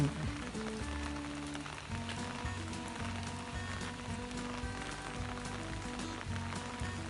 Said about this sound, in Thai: ฝนตกครับวันนี้